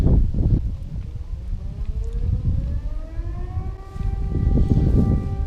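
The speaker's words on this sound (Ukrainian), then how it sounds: "Повітряна тривога" A wailing air raid siren in Ukraine rises and holds a long steady tone over gusty wind and low rumble, loud and sustained throughout.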